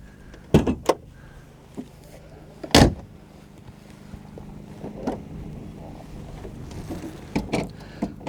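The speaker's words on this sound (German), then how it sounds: "Ich mache euch jetzt mal die Haube auf. Da ist links an der Seite der Hebel zu ziehen." A 1958 BMW 507 roadster has its hood released by a side lever and lifted, heard as a few sharp, close metallic clunks and a latch pop spread across a quiet garage background.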